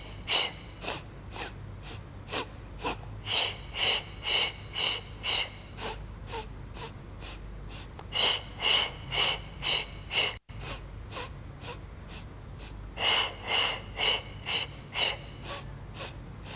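Rhythmic breathing during a Pilates mat hundreds exercise, quick regular puffs of breath in three clusters of about five or six, close by, separated by quieter stretches with a steady low hum beneath.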